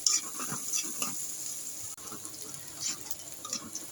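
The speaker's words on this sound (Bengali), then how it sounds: "ভাজতে ভাজতে পেঁয়াজের কালারটা বাদামি হয়ে আসছে।" Onions frying with a little salt in a pan, sizzling steadily while a spatula stirs and scrapes them in short bursts, close and fairly quiet with no talking.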